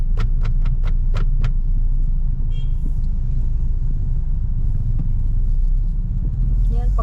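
Car driving through a town street in the Philippines, steady low engine and road rumble throughout, with brief chirpy sounds early on and people talking now and then over the drone.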